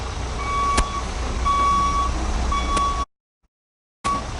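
A truck backs up slowly during a CDL skills test, its reversing alarm giving evenly spaced beeps over a low idling engine, close by, with a brief silent gap near the end.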